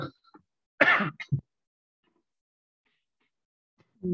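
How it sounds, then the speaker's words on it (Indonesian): A lecturer with a lingering cough clears his throat in one rough, close burst followed by a short cough, then goes silent for a couple of seconds before a voice resumes. "Ini mohon maaf saya batuknya belum berhenti total."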